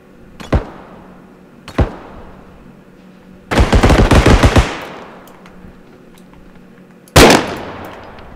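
An SVD rifle firing in the BodyCam shooter video game: two sharp, isolated shots, then a dense cluster of cracks lasting about a second, then one more loud shot after a pause, each with a reverberant tail.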